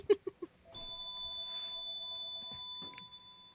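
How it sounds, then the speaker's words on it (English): An electronic ringtone, likely a phone, sounds indoors after a few soft knocks at the start. It carries sustained pure beeping tones for about two seconds, followed by a short higher chirp, with no one speaking. "whose phone's ringing?"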